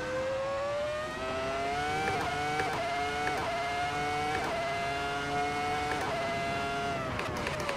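A racing car engine in a racing video game drones steadily with rising and falling pitch on a bumpy track, with faint intermittent scraping clatters of the car mixed in near the end.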